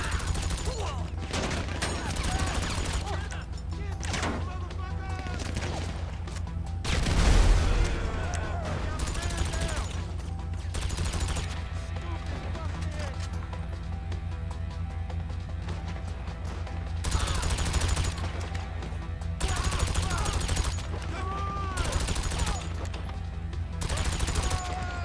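Gunfire in Grand Theft Auto V on Xbox One, repeated bursts of shots and a heavy impact around the middle, sustained over game background noise, with a voice talking at times.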